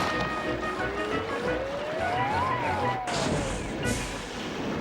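Thomas the Tank Engine brakes on a train of trucks, a loud rumbling roll with a rising and falling squeal, then a sharp hiss of released air.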